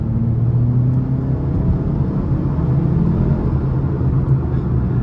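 A 2023 Hyundai Elantra N Line with a 1.6-liter turbocharged four-cylinder accelerates hard, a loud, steady engine drone heard from inside the cabin with the pitch climbing through the pull.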